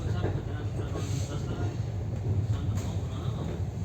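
Inside a Rajdhani Express AC 2-tier coach running from New Delhi to KSR Bengaluru, the train brakes hard with jolts, giving a loud, continuous rumble with rattling and occasional heavier knocks throughout.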